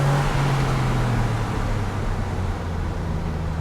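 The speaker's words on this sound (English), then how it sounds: "The Flat 6 sounds absolutely nuts when you've got the windows open" A flat-six car engine drones loudly with a low, throbbing tone and rushing road and wind noise, heard from inside a moving vehicle with the windows open.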